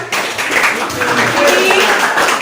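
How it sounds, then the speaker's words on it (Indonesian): A classroom of students claps for a classmate who placed third on the podium in a lesson game, a loud close patter of small hands that holds steady for the whole moment with some voices mixed in. "Tepuk tangan untuk Silvan."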